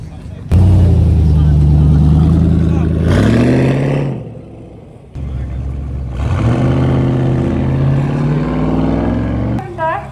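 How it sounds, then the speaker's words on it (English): A Hummer H2 climbs a hillclimb course during a supercar event, its loud engine droning and building near, then easing before a second surge of revving. "Here comes Backfire Brad in the Hummer H2"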